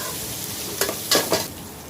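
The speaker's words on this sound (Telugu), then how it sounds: "ఆనియన్స్ వేయాలి. ఆనియన్స్ ఫ్రై అయ్యేదాకా వేయించాలి." Onions sizzle and crackle in a hot pan, with a few louder bursts as they are stirred.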